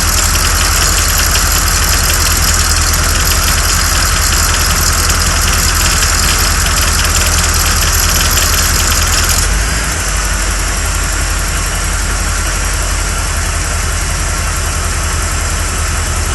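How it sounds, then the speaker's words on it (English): A 1987 Corvette idles steadily with a constant engine drone and a loud air conditioning compressor whine, which cuts off partway through as the compressor cycles off, leaving the idle running on alone. "you'll hear the compressor go off and the pressures will drop back down again"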